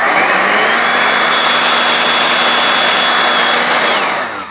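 A battery-powered leaf blower, an 18V Ryobi or 56V EGO, runs steadily with its trigger locked on, giving a loud, constant close-up whoosh and whine that only begins to drop away in the last moment.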